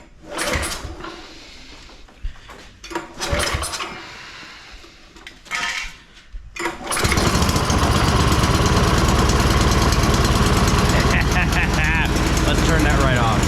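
Yamaha YS624T snow blower engine catching on electric start indoors, loud continuous rattling roar after several seconds of scattered clunks and brief talk.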